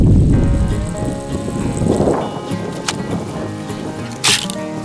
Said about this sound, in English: But that one's pouring water out.